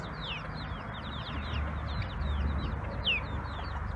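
Chickens and chicks in a garden keep up soft clucking and high rapid cheeping, with scattered chirps over a low rumbling background, close by and continuous.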